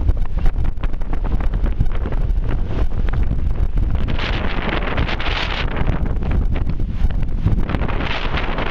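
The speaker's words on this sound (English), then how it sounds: "Very windy out here." Strong wind blows hard and steadily across the microphone at a construction site beside One World Trade Center, a loud continuous roar with gusty rumble and no pauses.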